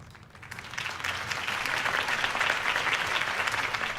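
Sustained crowd applause at a Harvey Dent campaign rally in the video game Batman: The Telltale Series, a dense wash of clapping that swells after a quieter opening and stays steady and full to the end.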